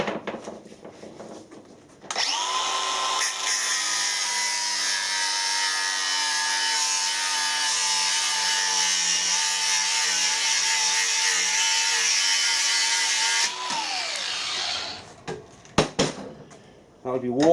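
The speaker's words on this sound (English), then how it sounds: "cut the head off with an angle grinder" An angle grinder cuts the head off a very hard screw, a loud continuous high-pitched whine and grind held for about eleven seconds before it spins down, followed by brief clatter.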